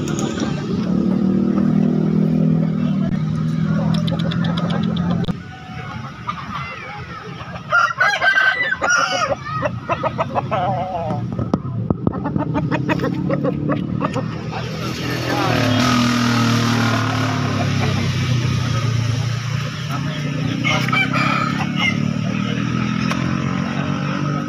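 Roosters crowing and chickens clucking at a poultry market in Makassar, loud nearby calls repeating over busy background noise, with people talking throughout and a passing motorcycle.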